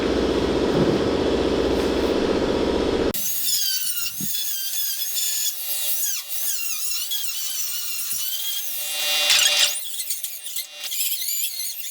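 A flap disc grinds across a large flat steel body panel on a 1967 Camaro, a loud steady high-pitched whine with squealing pitch swings, starting abruptly after a few seconds of duller rumble and holding close up throughout.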